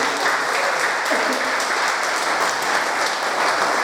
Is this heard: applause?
yes